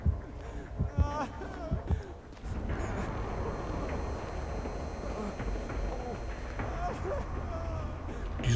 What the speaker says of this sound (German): Okay, der Herzschlag wird schneller.